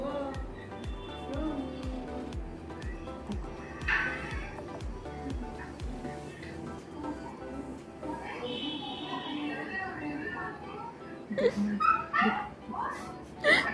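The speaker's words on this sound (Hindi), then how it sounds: "भौंकने लगा" A Siberian Husky puppy whimpers and yips in short bursts, with a few sharp barks, while people talk nearby.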